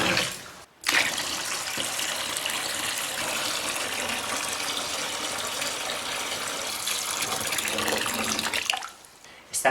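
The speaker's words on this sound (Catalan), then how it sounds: "ara anem a introduir aigua. Tenim que omplir tota la tina d'aigua" Water gushes steadily into a large papermaking vat, a continuous loud rushing fill that runs almost unbroken, with a brief pause near the start and tapering at the end.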